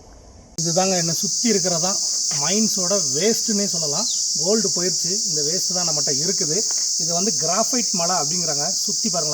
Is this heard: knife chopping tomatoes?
no